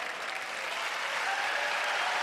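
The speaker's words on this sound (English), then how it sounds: "encouraging the crowd to applaud" A stadium crowd at an outdoor athletics meet applauds in a dense, steady wash of clapping that swells slightly toward the end, with no single voice standing out.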